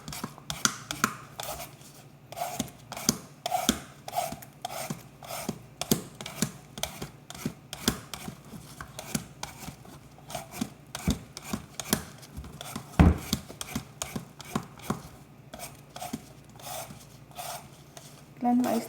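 A knife peels the skin off a winter melon (kundol) in a home kitchen, making steady scraping, rasping strokes with occasional sharper knocks, close and moderately loud throughout.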